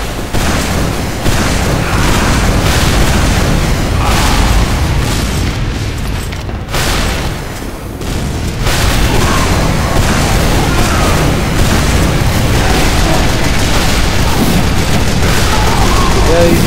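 Rocket explosions in Team Fortress 2 pile up into a steady, loud barrage of booms and bursts that barely lets up, with one brief lull partway through and faint talk underneath.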